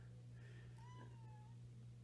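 A house cat meows once, a rising then falling drawn-out meow heard fairly close against a constant low hum of aquarium equipment in a fish room.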